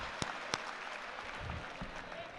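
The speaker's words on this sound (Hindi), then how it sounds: "तालियां बजाइए" Applause at a grand Urdu poetry mushaira in Indore, 2025, a steady, broad rush of many hands clapping, with a couple of sharp, close claps near the start.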